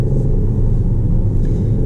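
A Volvo S60 T8 Polestar Engineered accelerating hard, heard from inside as a loud, deep, steady rumble with no talking.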